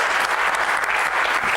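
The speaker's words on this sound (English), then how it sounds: "give a big round of applause and welcome him on stage" An audience at an academia-industry-government conference hall gives dense, sustained applause, loud and continuous with no voices over it.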